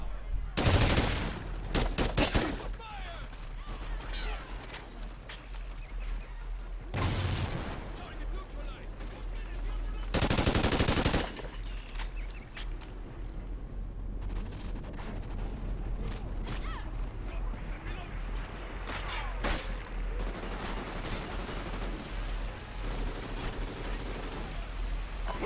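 Assault rifle gunfire in Call of Duty: Ghosts multiplayer, several loud sharp bursts and scattered shots over steady game noise, with a person talking at times.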